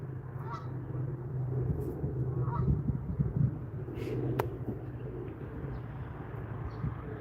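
Birds call outdoors beside water during a fishing outing, with honking goose-like cries and soft cooing over a steady low rumble of wind and ambient noise.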